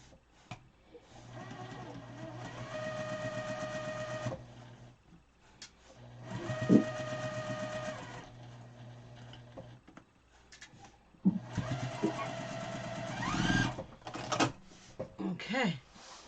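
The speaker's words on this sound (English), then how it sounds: "And then we can sew it together now" A sewing machine joins quilt pieces in three humming runs of a few seconds each, moderately quiet and close, separated by pauses, clicks and fabric handling.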